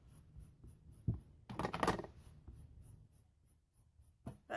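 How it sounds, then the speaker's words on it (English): Candy Apple pan pastel rubbed across rich coral paper, giving close, dry scratchy strokes in a few short bursts with quiet gaps between, and no talking. "I'm just going to rub across this rich coral paper with, this is actually the Candy Apple"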